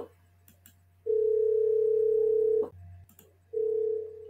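A telephone rings with an incoming call, two long steady electronic tones separated by a short pause, loud and close, with no one talking.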